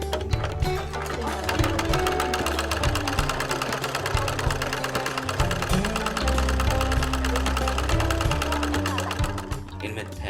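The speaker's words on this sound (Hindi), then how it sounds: "यहाँ इन लोगों को यदु कृष्ण और बीएनबी मिलकर बेहतरीन सिलाई के गुर सिखाते हैं।" Several sewing machines whir continuously in a women's stitching training class, a busy overlapping mechanical hum that stays dense and steady throughout with no talking.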